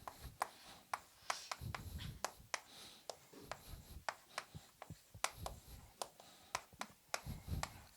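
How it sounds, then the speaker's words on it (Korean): A pen or marker writes by hand during an accounting lecture, with quick scratchy strokes and taps in an irregular rhythm, faint and close in a quiet room. "여기다가 그냥 이해하기 쉽게 하나만 더 옮겨 써볼게요"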